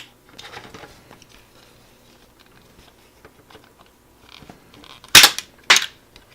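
A Voltron Legendary Defenders Yellow Lion toy launcher fires blue discs, giving two sharp, close plastic snaps about half a second apart after some quiet handling clicks.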